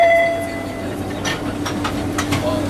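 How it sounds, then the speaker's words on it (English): An MBTA Red Line commuter train rumbles steadily close by on a snowy day at North Quincy, with rhythmic clattering of wheels over the rails as the cars roll past. "Oh, look what I catch. The commuter train."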